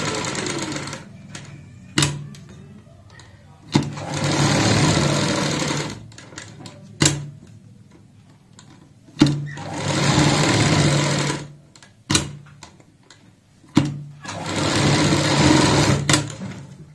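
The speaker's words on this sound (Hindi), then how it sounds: "यहाँ पे सिलाई लगाएंगे इस साइड से। बुकरम के साथ साथ सिलाई लगानी होती है।" A sewing machine stitches a fabric patch backed with buckram for a kurti neck design in bursts of rapid, loud, rhythmic whirring, separated by quiet pauses and sharp clicks as the fabric is repositioned.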